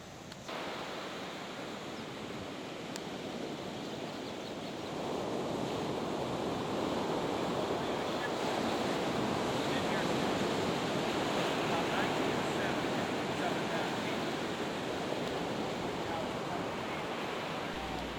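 Waves break continuously on a beach beside a ghostly dead forest on an eroded dune coast, a steady roaring wash of surf that swells slightly louder midway, with wind noise mixed in.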